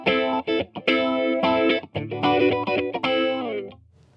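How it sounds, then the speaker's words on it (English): Electric guitar played through a Blackstar ID:60 amp with a phaser effect: short bursts of distorted chords and single notes, sweeping tone, choppy phrasing with brief gaps, no voices. "We have four different types of effect, the first one being a phaser."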